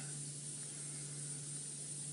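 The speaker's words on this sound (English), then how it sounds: "You see how he's marking? He's probably going to spray now." A male leopard named Tingana sprays urine to mark territory on a safari drive, producing a steady, faint, continuous hiss with no pauses across the short moment, no voices present.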